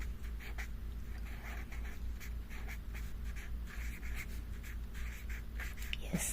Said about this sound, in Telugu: ఫస్ట్ అయితే ఇక్కడ ఆల్జిబ్రా రాస్తున్నాను